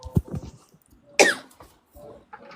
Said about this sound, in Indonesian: Batuk nih.